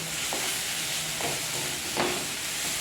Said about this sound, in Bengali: একদম তলায় বেশ লেগে লেগে যাচ্ছে এরকমভাবে ভাজতে হবে এটাকে